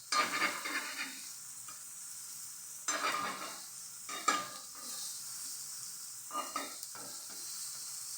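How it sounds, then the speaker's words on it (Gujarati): Tomato uttapam roasts in a spoonful of oil on a pan over a medium gas flame, a soft steady sizzle with a few bursts of louder scraping as it is pressed down, close and fairly quiet, no voice. "પાછું 1 ચમચી તેલ નાખી અને બરાબર શેકી લેશું. આવી રીતના દબાવી મીડિયમ ગેસ ઉપર જ શેકવાની છે"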